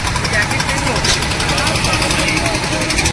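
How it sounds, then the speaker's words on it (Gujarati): A rope-started boat engine runs at a steady idle on the Narmada river, a continuous close, throbbing rumble with a rapid knocking pulse, until it cuts off abruptly right at the end. "ફાઇનલી મિત્રો ભાઈએ બોટનું નેતરું મારી દીધું."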